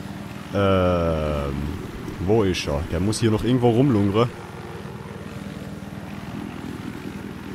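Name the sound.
helicopter in video game Battlefield 3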